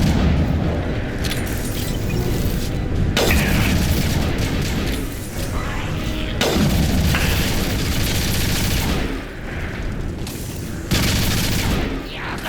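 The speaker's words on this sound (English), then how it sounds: "Firing an impact shot." Mass Effect 2 combat din with a dense, continuous roar of weapons fire, booms and explosive blasts layered over each other, loud throughout with occasional sharp impacts standing out.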